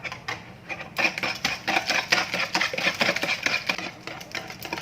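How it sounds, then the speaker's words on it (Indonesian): Sugar mixture for bika ambon whisked by hand with a wire whisk in a bowl, giving a steady run of rapid clattering scrapes close up, alone with no talk. "Kemudian ini akan saya kocok menggunakan whisk ya"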